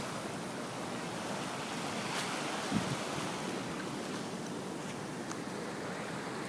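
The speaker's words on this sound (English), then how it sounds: "Just thought that I take a moment and record all the beautiful views of the island," Ocean surf rolls steadily onto an island shore as a broad, continuous wash of waves, with light wind buffeting the microphone and no voices.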